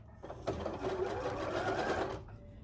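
A sewing machine stitching fabric with pins in it, running in a brief continuous whirring burst of rapid needle strokes for about two seconds, close up and alone.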